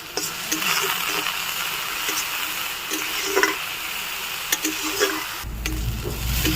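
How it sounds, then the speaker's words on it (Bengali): Apple pieces frying in ghee or butter in a pan for a bread-and-apple patty, giving a steady close sizzle with a few clicks of stirring and a brief louder low rumble near the end. "তো দেখো আমার আপেলটা ভাজা হয়ে গেছে"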